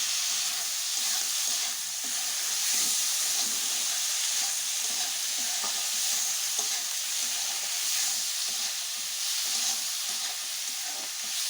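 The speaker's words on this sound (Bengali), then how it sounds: "এইভাবে আমি অনেকক্ষণ টমেটো যত সময় না গলবে তত সময় একটু ভেজে দেবো।" Chopped tomatoes fry in a pan with a steady, even sizzle and hiss, close and continuous with no talking.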